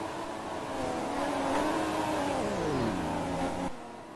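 An Aston Martin race car engine in an F1 racing video game screams at high revs, then drops in pitch as it downshifts and decelerates before cutting off abruptly near the end.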